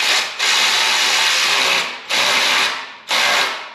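A power tool runs down the spring bolts of a Revel Medallion (Tanabe) exhaust on a Lexus IS250/350 in three close, loud bursts, one long and two shorter, with brief pauses between them.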